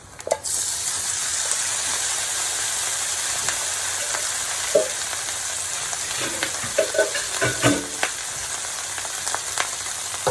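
Rice stir-fried in a pan with pork belly and kimchi gives a steady close sizzle, broken by a few scrapes and knocks of a utensil toward the end.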